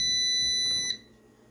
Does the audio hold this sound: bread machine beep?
yes